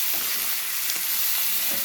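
Ginger garlic paste frying in a pan, a soft steady sizzle with faint stirring scrapes, brief and close with no talking.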